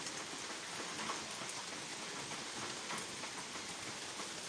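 Steady rain pours down evenly, a dense wash of droplets hitting surfaces continuously without pause, fairly loud and close.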